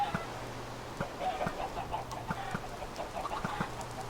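Chickens cluck softly and steadily in a Minecraft chicken farm, with scattered short clucks and faint ticking clicks repeating over a low steady hum, no voices.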